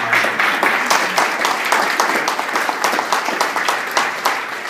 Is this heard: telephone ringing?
no